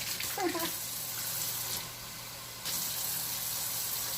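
Warm water pours steadily from a measuring cup into a bowl of rye bread dough mix, a soft continuous splashing that briefly dips quieter midway before resuming.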